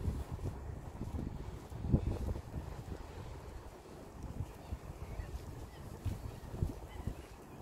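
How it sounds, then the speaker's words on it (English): Low, rumbling wind buffets the microphone steadily on the way to the quayside in Newcastle upon Tyne, a continuous outdoor blustery noise with gusty surges and no talking. "A little bit windy, but not much."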